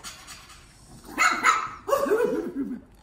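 A puppy barks and yips in two short bursts at close range, high and excited, following a quiet pause.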